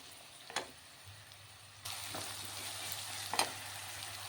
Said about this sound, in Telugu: ఉల్లిపాయ ఎర్రగా వేగాలండి